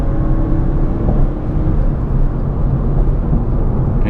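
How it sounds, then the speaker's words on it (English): Inside a 2017/2018 Mazda 3 being driven hard, tire and outside road noise make a constant low roar and rumble that stays loud and even throughout, with no voices. "there is a lot more tire noise and outside road noise coming in than I would like"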